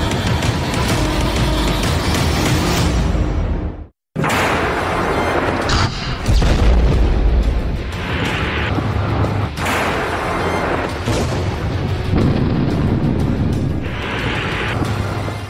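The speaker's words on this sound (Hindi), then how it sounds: "यूक्रेन के चप्पे चप्पे पर रूस की मिसाइलें बरस रही हैं।" Russian missile strikes in Ukraine, heard as a dense, roaring chain of heavy booms and blasts with a brief cut of silence, then continued rumbling detonations, loud and close.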